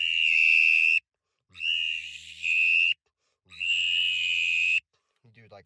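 Three bursts of a reedy, high whistle call made on a teal whistle imitating a drake mallard, each about a second long with short pauses between, followed by a brief murmur.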